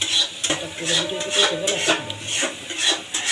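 Fish roe being stir-fried dry in a pan with coriander leaves, giving steady scraping and stirring strokes of a utensil against the pan over a soft sizzle, close and continuous.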